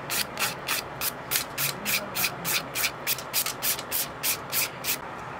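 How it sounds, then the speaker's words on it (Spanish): Nail file rasping across the surface of acrylic nails, a steady series of about fifteen quick, close scratchy strokes in an even back-and-forth rhythm, with no talking. "ahora sí me voy a venir y voy a limar toda la superficie."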